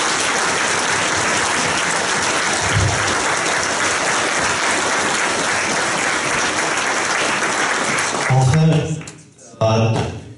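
Sustained applause from a graduation ceremony audience honoring the staff, dense and steady for about eight seconds before thinning into a few scattered claps and low thumps near the end.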